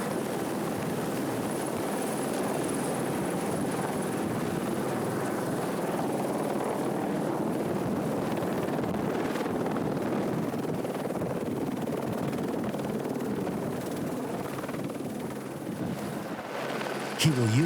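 A helicopter hovering low near the ground during a wildlife rescue mission in Kenya, a steady loud rotor thrum and engine whine that runs continuously throughout.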